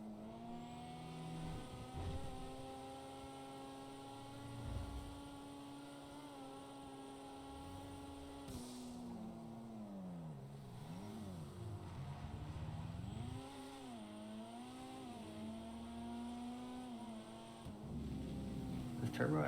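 A turbocharged car engine in GTA 5 revs and drones steadily, its pitch rising and falling through several swells, with people talking over it.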